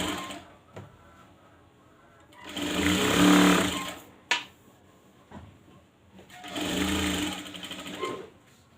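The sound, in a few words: sewing machine stitching a churidar top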